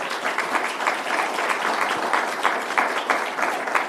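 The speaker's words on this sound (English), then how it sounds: "they deserve a round of applause" An audience at a maritime anniversary gathering claps in a steady round of applause, dense and even with slight pulsing, and a faint voice sits under it.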